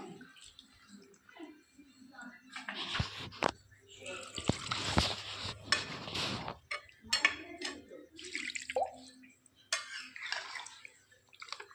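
Water is poured into a pan of American rui fish curry on the stove. A close splash and gurgle of liquid comes in bursts, mixed with clatter and some talking.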